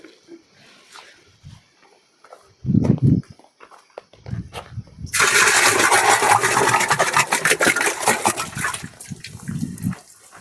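Cow dung stirred into water is poured as a slurry into a tank while preparing jeevamrut organic fertilizer on a farm. After a few brief knocks comes a loud, sustained sloshing gush lasting about five seconds, then it tails off.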